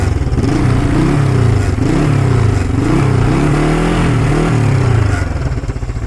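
A 1975 Honda CL360 Scrambler engine revs up loud and close, its steady rumble rising and falling in pitch over several throttle blips, easing slightly near the end.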